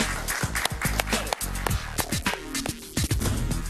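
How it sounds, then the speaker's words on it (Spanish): A studio audience on a Spanish-language talk show claps for a guest, a short burst of dense, fairly close applause with rapid overlapping hand claps. "Un aplauso para Ángel, por favor."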